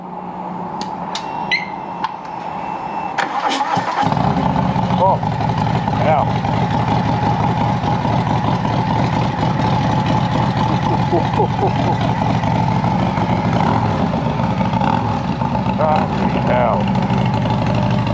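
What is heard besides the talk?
Harley Davidson Fat Bob Stage 4 engine, Vance and Hines Pro Pipe exhaust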